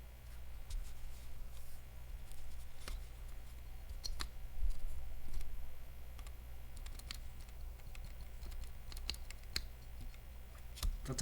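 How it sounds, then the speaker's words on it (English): Sharp clicks from mechanical keyboard switches during stabilizer testing come in an irregular stream of close, crisp taps, some louder and some faint, with no talking. "What is that clicking sound?"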